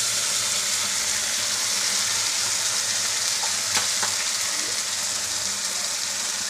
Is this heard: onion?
yes